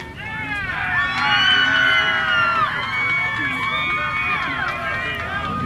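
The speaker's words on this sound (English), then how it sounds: "A lot of cheering back over there." A crowd cheers at a nearby youth baseball game, a sustained wash of shouts and whoops from some distance that swells and fades across the clip.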